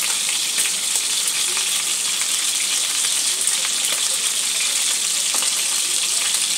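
Aar fish pieces frying in oil in a pan for a kalia curry give off a loud, even, close sizzle with bright crackling spits that continue without a break, and no talking.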